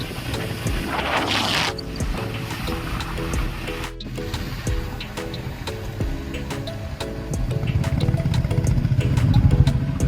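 Motorcycle engine droning steadily on the road on a ride to Tarapith, a low rumbling hum that grows louder and rougher toward the end, with faint rhythmic clicks and no talking.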